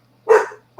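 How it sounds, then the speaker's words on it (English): A hound dog gives a single sharp, close bark indoors, reacting to someone passing the window, with the start of another bark cutting in at the very end. "you're going to hear a dog bark in the background."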